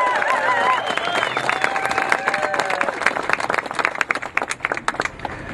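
A crowd at a gun rights rally breaks into applause, starting amid a few voices and cheers, then settling into sustained, close clapping that thins out toward the end.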